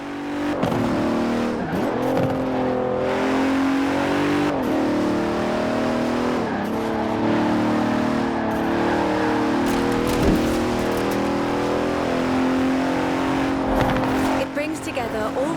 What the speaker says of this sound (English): The 2017 Continental Supersport is responsive, fast, and beautifully designed.